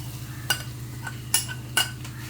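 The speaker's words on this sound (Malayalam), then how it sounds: "നമുക്ക് നേരത്തെ പൊടിച്ച ചിക്കൻ ഇടുന്നതാണ്" Ground chicken being stirred into a pan with a low steady sizzle, punctuated by three sharp spatula scrapes against the pan.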